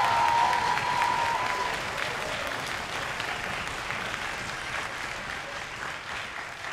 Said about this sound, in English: we do need to give one more round of applause to the talented